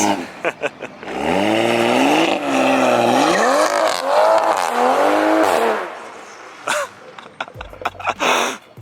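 Tuned, straight-piped Toyota Supra revs and pulls hard with a loud, raspy exhaust drone rising and falling across several seconds, then sharp crackling pops and bangs burst from the exhaust as it lets off, close and dominant.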